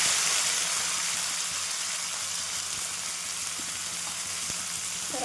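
Bitter gourd pieces drop into hot oil already browning with garlic, raising a steady, even sizzle that holds at close range for several seconds with no talking.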